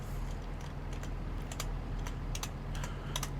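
Quiet tapping on a computer keyboard, a run of light, irregular clicks and short bursts of keystrokes over a low steady hum, with no voices.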